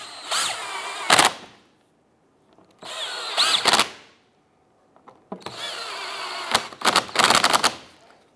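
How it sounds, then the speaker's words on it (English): A power tool runs in three separate bursts while tightening the front bolts on a 2005-2007 Ford Five Hundred bumper during headlight replacement, each a loud, close whirring spin ending in rapid ratcheting clatter. "let's tighten down the three bolts on the front"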